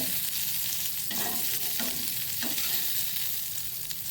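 Fish or prawns frying in oil for a Mangalorean fry, a steady close sizzle that fills the whole clip, with a few soft scraping stirs of the pan partway through and no talking.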